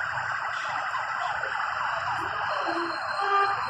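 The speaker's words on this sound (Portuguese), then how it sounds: "Chegando a viatura do corpo de bombeiro" A fire engine siren wails steadily as the truck arrives at a blazing old mansion, its roof already collapsed, beside the Church of São Benedito in Mato Grosso, Brazil. The siren is loud and continuous, and there is no talk.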